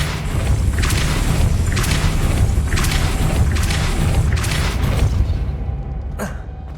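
A Depulso spell cast in Hogwarts Legacy: a loud, sustained magical rush with a series of pulsing bursts and deep booms, cutting off sharply near the end.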